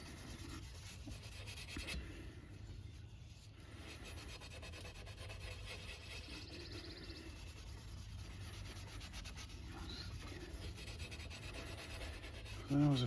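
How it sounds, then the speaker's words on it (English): WD-40-soaked rust is scrubbed off Cadillac seat rails in a continuous, close rubbing rasp that stays even and moderately quiet. A brief louder scrape comes right at the end. "That was a few minutes of scrubbing"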